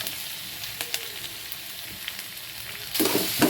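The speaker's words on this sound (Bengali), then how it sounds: "গাজরগুলো দেখুন নাড়াচাড়া করে নিচ্ছি।" Carrots and onions stir-frying in a pan for Bengali-style poha pulao, a soft continuous sizzle with sharp scraping stirs, louder toward the end, close by and without talk.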